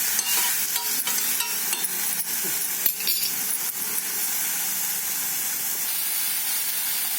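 Spices tempering in hot oil for a festival meal give off a steady, close crackling sizzle with scattered sharp pops, continuous for several seconds with no voices.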